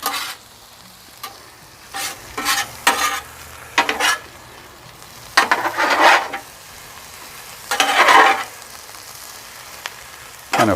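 Philly cheesesteak meat fries in a hot pan with salt, pepper and garlic and is stirred now and then, giving a low background sizzle broken by repeated loud scraping bursts of stirring.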